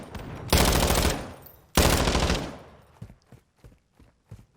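Two long, loud bursts of automatic gunfire ring out in a Call of Duty esports match between Toronto Ultra and Florida Mutineers, followed by scattered single shots and clicks.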